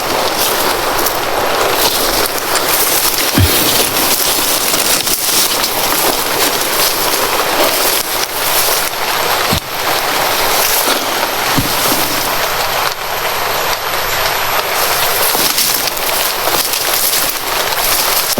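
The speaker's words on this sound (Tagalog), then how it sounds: "Sana tol, hindi ito lalakas itong ulan na to." Outdoor rain keeps up a continuous, fairly loud hiss, with a few sharp taps and knocks scattered through it and no voices.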